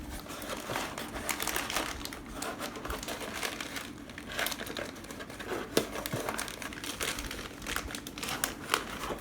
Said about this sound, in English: then just crumple that up and start placing them onto your boxes